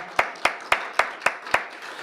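A church congregation claps in unison, six sharp, evenly spaced claps ringing out in a steady beat in a reverberant hall.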